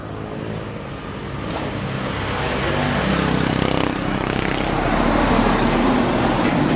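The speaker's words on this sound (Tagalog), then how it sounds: "Dami sasakyan." Afternoon road traffic on Maharlika Highway, a dense continuous roar of passing vehicles that swells gradually as engines draw nearer, loud and steady with no talking.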